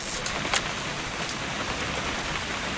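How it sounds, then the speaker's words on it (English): Steady rain falling in a video game scene, a dense continuous hiss of drops with a few brighter spatters, close and even throughout with no voices. "It's gonna rain the whole weekend"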